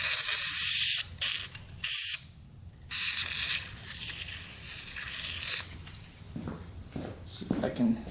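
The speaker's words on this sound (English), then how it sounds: "Squirt a little WD-40 in there." Short hissing bursts of WD-40 are sprayed into the cylinder of a locked-up, mouse-infested Kawasaki dirt bike engine, a few quick squirts close up, with someone talking between and over them.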